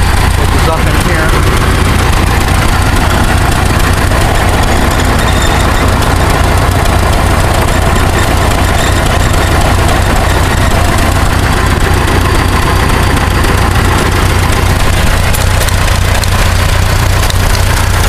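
An Adams motor grader's diesel engine fires up and settles into a loud, steady, low rumbling idle with a rough knocking rhythm that runs close and continuous throughout.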